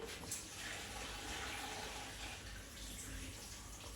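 Water from soaked rice for chicken pulao is drained off, a steady close rushing and splashing of water pouring out that runs continuously without pause.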